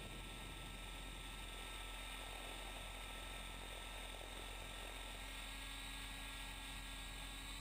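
A Trex600 radio-controlled helicopter flies FPV, heard only as a faint, steady rotor and motor drone with a constant whining tone throughout and no voices.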